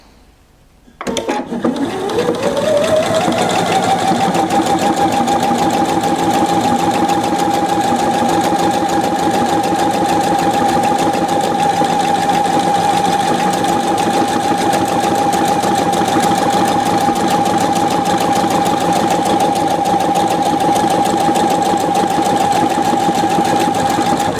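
A Pfaff 720 sewing machine stitches buttonhole number 1 on standard settings, kicking in after a brief quiet moment and then running in one long, even, loud mechanical whir with a rapid needle rhythm.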